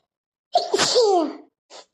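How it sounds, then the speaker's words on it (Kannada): One close, forceful sneeze with a short breathy lead-in, followed by a faint brief sound a moment later, otherwise quiet. "ಯಾಕೋ ಸೀನ್ ಭಾಳ ಬರಕತ್ತವ"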